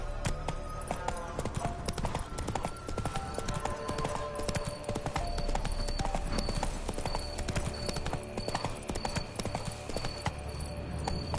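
Roach, a horse in The Witcher 3 on PS5, gallops with a fast, steady clip-clop of hooves, loud and continuous, with game sounds layered underneath.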